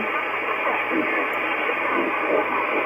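A steady wash of hissing HF radio noise with a faint, fluttery backscatter signal buried inside, constant and unbroken throughout.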